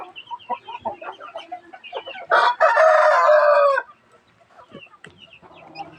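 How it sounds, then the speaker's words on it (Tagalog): A rooster, a black hen's flock mate, crows loudly and close by, one long drawn-out call, with scattered clucking and soft rustling before and after. "Yan guys yung manok ko na ano, itim na babae."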